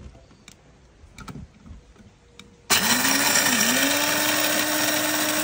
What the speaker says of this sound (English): Let's grind up tomorrow morning's coffee